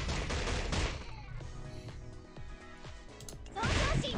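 Hotaru's Exploding Energy Palm skill in the KOF All Star video game: loud bursts of impact hits, then a run of sharp, rapid strikes and chimes, ending in another heavy blast.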